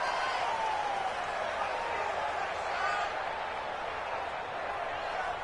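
Stadium crowd in a football video game, a dense steady roar of cheering and noise that fills the whole stretch, loud and continuous, while a commentator talks over it.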